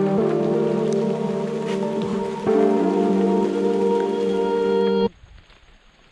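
Steady rain patters densely on leaves and surfaces in a Costa Rican forest, a continuous wash of drops, then abruptly drops away to near quiet in the final second.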